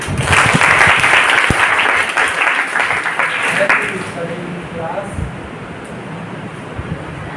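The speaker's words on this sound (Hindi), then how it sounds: "तालियां।" Applause for a student after her self-introduction at a motivational seminar held at a school in Chhatarpur, with a loud burst of clapping for about four seconds that fades into quieter room noise and faint talk.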